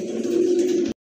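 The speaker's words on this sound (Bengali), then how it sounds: "খুবই ভালো মানের এক জোড়া কবুতর" A pair of pigeons gives one soft, sustained low coo, close and clear, ending abruptly.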